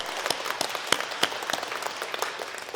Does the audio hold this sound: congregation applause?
yes